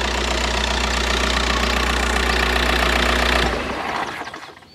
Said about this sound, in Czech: Tak to je naprosto čistý zvuk 74 TDIčkový.